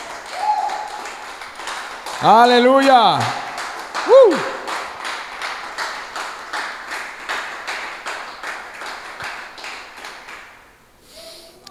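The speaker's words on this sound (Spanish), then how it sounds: "Aplauda al Señor." A church congregation claps in a steady rhythm through a worship service, the dense clapping continuing throughout while a voice rises in a drawn-out shout of praise over it before the clapping thins out.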